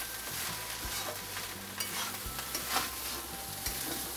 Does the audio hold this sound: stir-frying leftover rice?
yes